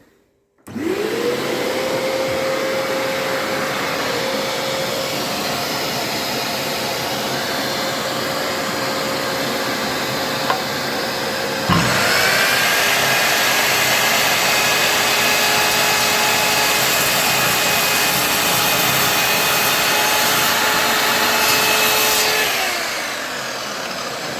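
A GTM HM9085 miter saw runs with a shop vacuum hooked to its dust port, a loud, steady whine that spins up and holds. Partway through, a second motor tone joins, and both wind down together at the end.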